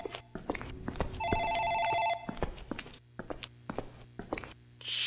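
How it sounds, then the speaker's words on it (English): Office desk phone ringing in the video game Dark Fracture, a bright electronic trill sounding for about a second amid soft footsteps and small clicks and knocks in a quiet room. "Phone in the office ringing."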